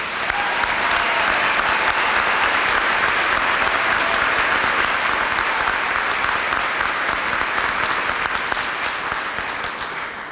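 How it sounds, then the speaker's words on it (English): A university commencement crowd of graduates applauding, a loud, sustained roar of many hands clapping together, thick and unbroken, tapering only slightly near the end. "give yourselves and one another a round of applause"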